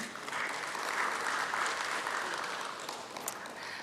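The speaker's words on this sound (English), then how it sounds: "please give our dignitaries a big round of applause and a warm welcome" An audience gives a warm round of applause to welcome dignitaries at the AGI Infra Limited stock listing ceremony, a dense, even wash of many hands clapping that holds steady throughout.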